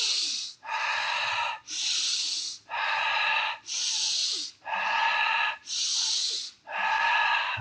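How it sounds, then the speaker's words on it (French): Forceful Wim Hof-style breathing, drawing air in through the nose and pushing it out through the mouth: eight loud, close, evenly spaced rushing breaths, each about a second long, separated by brief pauses, with no talking. "On inspire par le nez, on expire par la bouche."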